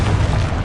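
A Confringo blast spell in Hogwarts Legacy erupts as a loud, continuous booming burst with deep low-end rumble, filling the whole brief moment without any voices.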